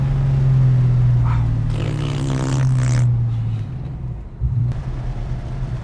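A 1971 El Camino fitted with Roadster Shop equipment cruises down the road, its engine holding a steady low drone throughout, with a brief shift in the engine note near the end.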